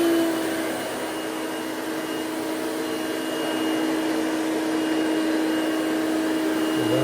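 A Hoover Celebrity QS vacuum cleaner runs on its low speed setting, a steady unbroken motor whine with an airy hiss that holds level and close for the whole stretch, with no talking.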